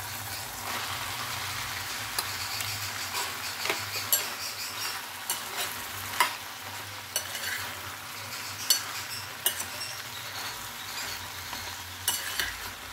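Chopped tomatoes and onions frying in a pan for an Andhra-style dry prawn curry, a steady broadband sizzle with scattered scraping clicks from stirring throughout, no voices.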